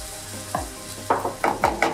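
Broccoli and other vegetables searing in a hot pan for fried rice, a close, steady sizzle broken by several short scraping stirs, with no talking.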